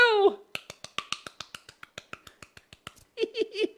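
Rapid series of crisp finger snaps, about twenty sharp clicks in a steady rhythm, close and alone, followed by a brief burst of speech.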